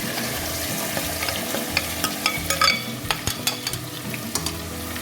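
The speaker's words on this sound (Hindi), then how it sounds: "अब इसी प्याज के अंदर हम अपने ये पसंदे डालते हैं" Pasande meat sizzles as it is stirred into fried onions in a pan. A steady frying hiss runs underneath, with scraping stir strokes and small clinks in the foreground.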